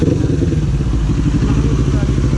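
A loud NK400 motorcycle engine rumbles steadily up close, a low throbbing idle with a rough, pulsing beat throughout.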